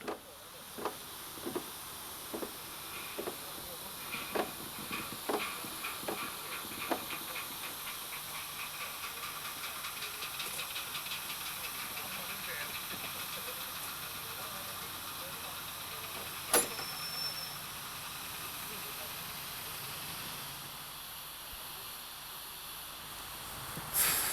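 A steady hiss of steam from a live steam engine during a test check runs throughout, with a series of regular ticking puffs early on and a few sharper clicks later.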